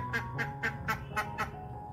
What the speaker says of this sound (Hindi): डकी बहुत खुश है, ये देखिए उसको नया घर मिल गया है